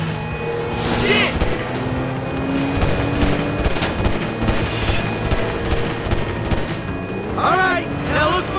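Rapid bursts of gunfire fill a chaotic yacht chase in GTA V on PlayStation 3, loud and dense against engine noise, music and shouting voices.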